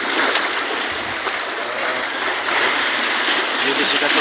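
Sea waves washing over a rocky beach, a steady broadband wash of surf close by, with voices of people on an outing talking over it.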